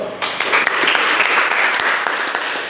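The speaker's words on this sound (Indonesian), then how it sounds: "Ya, berikan aplaus." Students in a classroom give a round of applause, a full, steady patter of many clapping hands sustained for nearly three seconds at close range.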